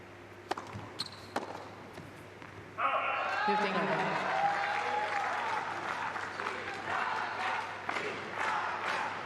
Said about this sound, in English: It's like both crowds winding each other up, and they get more louder from each side.